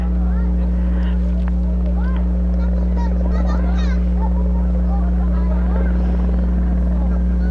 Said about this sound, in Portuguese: Helicóptero vindo ali, ó, do bombeiro. Tá pegando água nesse lago aqui pra apagar um fogo lá.